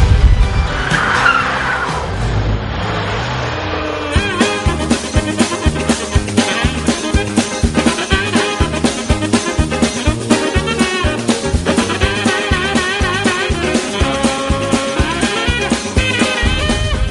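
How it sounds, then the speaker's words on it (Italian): A Porsche on a protective-driving course reverses and spins around, its tires skidding and squealing loudly over a revving engine and heavy music, close and continuous. "Retromarcia, colpo di sterzo, si gira l'auto"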